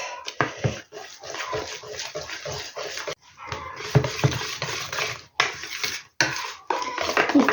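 Milk being whisked into pancake batter in a bowl for cheese and cherry crepes: brisk rhythmic scraping and clattering of a whisk against the bowl, close and loud, with brief pauses between bursts.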